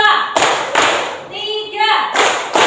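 A class of children claps hands together on a teacher's count, sharp group claps landing in a few bursts, with a voice calling out between them.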